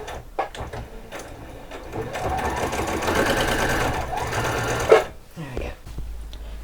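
A sewing machine runs in a steady whirring burst for a few seconds while stitching across a fabric headband, with a clunk near the end and quiet handling sounds around it.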